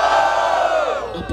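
A crowd at an outdoor rap battle in Barueri, São Paulo roars and cheers in one loud, sustained burst.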